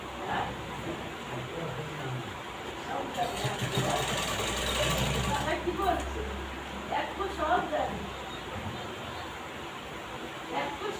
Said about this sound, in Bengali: এবার অন্য সাইডও ঠিক একইভাবে ঘুরিয়ে সেলাই করে নেবেন।